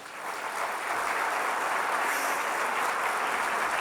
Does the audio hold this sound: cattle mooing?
no